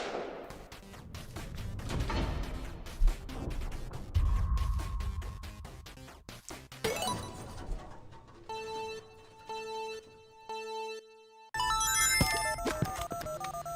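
A phone rings in the Knuckles' Week at Sonic's game, a bright repeating electronic ring pattern that follows a stretch of rumbling game noise and some sharp bangs.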